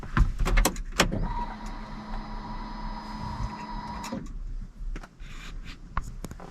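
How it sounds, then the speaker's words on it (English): Lotus car fuel pump priming after the ignition is switched on, a steady electric whirr with a faint high whine lasting about three seconds, framed by clicks and knocks inside the car. "I think it's the fuel pump priming."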